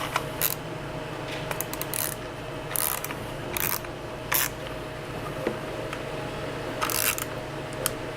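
A bolt being tightened on the plastic clamp of a USB sequential gearbox gives short, close clicking and ratcheting bursts at irregular intervals over a quiet background, with no talking.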